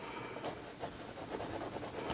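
Close, scratchy strokes of a colored pencil on watercolor-painted paper, repeated in quick uneven rhythm.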